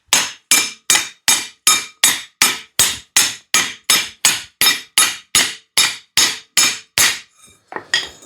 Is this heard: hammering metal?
yes